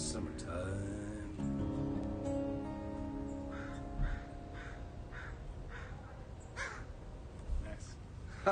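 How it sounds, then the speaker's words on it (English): Crows cawing repeatedly in the background while a person sings with sustained tones over it. "Can you hear the birds out there? I think they're joining in."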